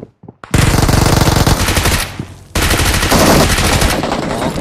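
Scar L assault rifle fire in PUBG Mobile, loud sustained automatic bursts of rapid shots after a brief quiet start, with a short lull midway before the firing resumes just as densely.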